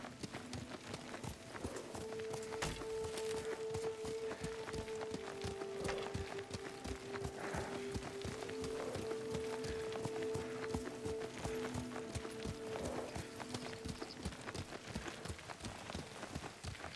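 Horse hooves clip-clopping in a steady riding rhythm in the video game Ghost of Tsushima, moderately quiet under a soft rain-like wash and a sustained musical tone.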